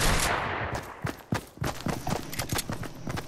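Rapid bursts of Fortnite gunfire crackle in quick, irregular succession, loud and close, with sharp repeated shots filling the short stretch.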